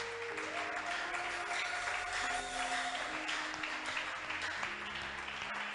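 A church congregation claps and cheers in praise of the Lord, a steady wash of applause filling the room under a held organ or keyboard tone; no talking.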